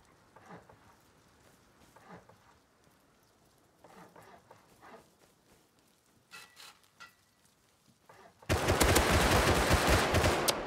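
Bursts of automatic gunfire in the video game Rust, starting with sparse, quieter shots and ending in a loud, sustained volley of rapid fire.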